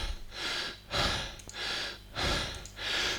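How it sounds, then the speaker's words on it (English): Heavy, rhythmic breathing after a boot camp workout: deep breaths in and out, about three cycles in a few seconds, close and fairly loud, with no talking. "Excuse the heavy breathing."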